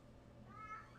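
A pet cat gives a single short, faint meow indoors, rising briefly out of quiet room noise.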